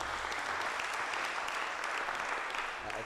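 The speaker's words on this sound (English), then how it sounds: "let's give Mark a hand clap again." Conference audience applauding a speaker named Mark, dense steady clapping from many hands at close range, sustained for a few seconds before tapering slightly at the end.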